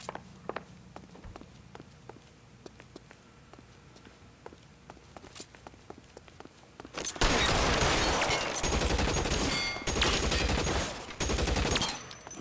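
A gunfight erupts in the video game L.A. Noire: a few seconds of quiet with scattered small clicks and taps give way to sustained bursts of dense, loud gunfire, including rapid automatic fire, cutting off and resuming several times.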